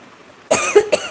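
Two sharp coughs from a person with a cold in quick succession, close and loud, after a brief quiet moment.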